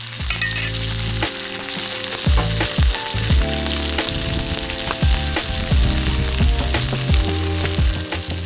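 Rib eye steak sizzles steadily with butter on a Blackstone griddle, a loud continuous fry with crackle that rises in bursts as the butter hits the hot surface, with no talking.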